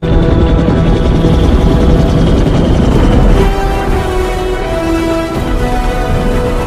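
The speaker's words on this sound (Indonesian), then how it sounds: "Kong pun diangkut menggunakan beberapa helikopter menuju sebuah gua" A steady, loud rotor drone from several helicopters fills the whole clip, a continuous roar with a slight shift in tone partway through.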